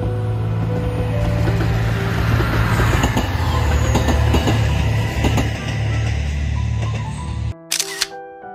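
A two-car K127K train on the Kishin Line passes close by under a dull overcast sky, a loud steady rumble with rail clatter that stops abruptly, followed by a few sharp camera shutter clicks.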